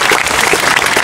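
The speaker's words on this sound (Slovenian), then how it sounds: "Bravo, damo en aplavz!" Spectators at a Skoki v Krko ski jumping event, where people leap into the Krka river, applaud loudly and steadily, a dense close clapping crowd with no talk.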